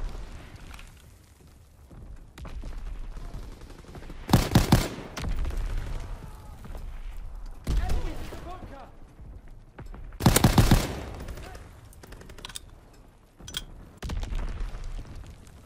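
Gunfire from an automatic gun in Call of Duty WWII, with loud bursts of rapid shots separated by quieter stretches of battle noise.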